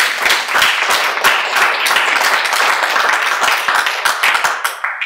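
An audience applauding after a panel discussion: sustained, fairly close clapping from many hands for several seconds, with no talking over it.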